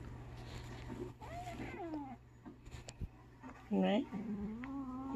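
A pet cat gives a few soft, close meows, with one louder meow near the middle, while someone speaks affectionately to it indoors.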